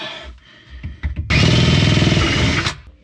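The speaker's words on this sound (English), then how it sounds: "Gotta drill out the drain hole." A power drill bores out a drain hole in a small 2.5-gallon plastic water tank, starting with a few short taps and then one steady loud whirring run of about a second and a half that cuts off abruptly.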